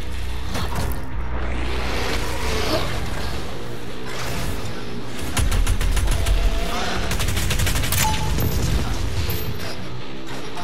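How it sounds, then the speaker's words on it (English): Combat shotgun blasts in DOOM Eternal amid heavy battle noise, repeated loud close shots and mechanical clanks over a dense, constant game mix. "pull out my combat shotgun"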